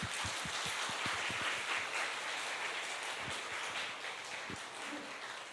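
Congregation clapping to welcome guests during a Sunday church service, a patter of scattered claps that thins out and grows quieter toward the end.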